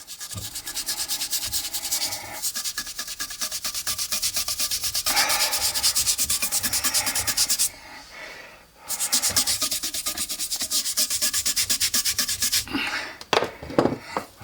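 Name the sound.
scrubbing shrimp with a brush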